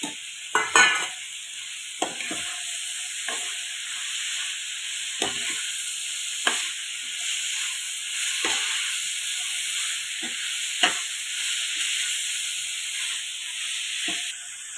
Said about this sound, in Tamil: அதனால எல்லாம் சேர்த்து நம்ம வதக்கி எடுத்துக்குவோம்